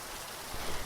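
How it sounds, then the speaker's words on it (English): Rain falling as an audio drama sound effect: a steady broadband hiss of drops that swells louder over the second half of the brief moment, with no voices. "The rain begins to come down harder."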